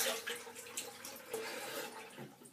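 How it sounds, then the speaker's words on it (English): Cold tap water runs steadily into a basin during a wet shave with a OneBlade Genesis razor, a continuous close splashing hiss with no talk. "So I'm going to just add a drop of cold water"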